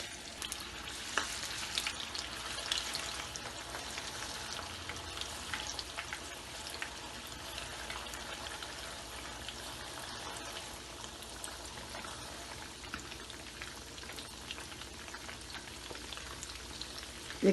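Marinated basa fish fries in hot oil with a steady, dense crackling sizzle close by, sustained and even from start to finish with occasional sharper pops.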